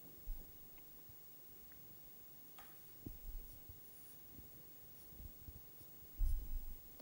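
Pen or marker drawing curves by hand on paper or a board, faint scratchy strokes with a few soft taps and louder bursts near the end, close and quiet with no talking.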